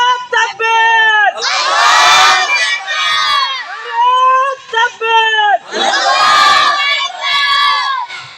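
Large crowd at a Bengali Islamic religious gathering roars a loud takbir chant in two strong surges, answering a preacher's call, with the preacher's voice heard calling between the shouts.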